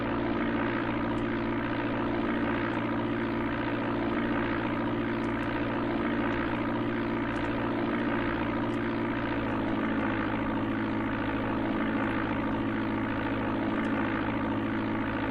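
Steady, loud propeller aircraft engine drone from the Amiga game Flight Simulator II on an instrument landing approach into Kokomo Municipal, holding an even pitch throughout with faint ticking clicks on top.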